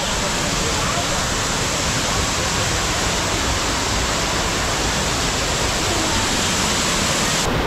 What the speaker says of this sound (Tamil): தண்ணி செம்ம ஃபாஸ்ட் அடிக்குது